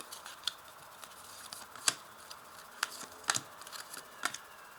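Tarot cards are handled and laid out, giving soft scattered snaps and flicks, about half a dozen light sharp taps at irregular intervals over a quiet background, close by and with no talking.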